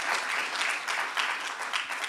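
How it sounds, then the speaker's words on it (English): An audience claps in dense, continuous applause at an event at John Jay College of Criminal Justice, a steady wash of many hands heard near and alone. "Let's give him a round of applause."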